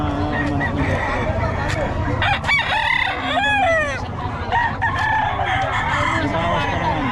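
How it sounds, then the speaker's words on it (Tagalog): A flock of gamefowl chickens with roosters crowing several times over steady clucking, some calls near and others farther off, while people talk in the background. "itong mga manok ni Boss Rod"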